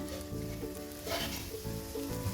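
Indian borage leaves dipped in batter sizzle and crackle steadily in hot frying oil as fritters cook, a continuous close bubbling hiss with small pops, no talking.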